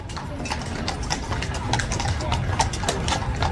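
Royal guards' horses on duty, hooves clip-clopping in a steady uneven patter on pavement, moderately close, with crowd chatter and voices running underneath throughout.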